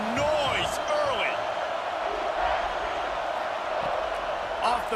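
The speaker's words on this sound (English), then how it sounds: "This crowd bringing the energy and noise early." A steady roar of a stadium crowd in a college football game at BYU, a constant dense din with a few whistles and cheers rising above it, while a voice talks faintly underneath.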